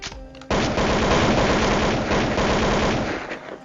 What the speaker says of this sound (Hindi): और गोलियां बरसने लगती हैं।